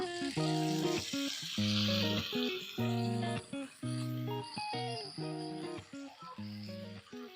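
Small cut eggplant pieces frying in oil in a pan for a Telangana-style brinjal curry, giving a steady close sizzle that runs throughout beneath a pulsing tonal background of music.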